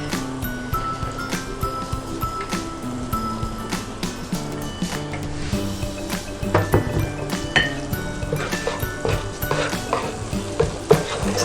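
Onions sizzle loudly in a hot pan for turmeric fried rice, with frequent spatula scrapes and metallic clinks as they are stirred, close up and continuous.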